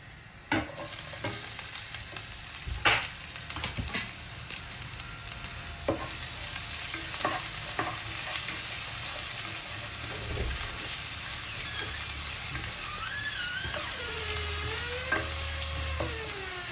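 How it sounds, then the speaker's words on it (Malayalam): Chopped onion added to hot oil in a pan for egg curry, frying with a steady sizzle while a spoon scrapes and stirs in scattered clinks, close and continuous, with no talk over it. "ഇതിലേക്ക് നമുക്ക് അരിഞ്ഞു വെച്ചിരുന്ന സബോള ചേർത്ത് കൊടുക്കാം."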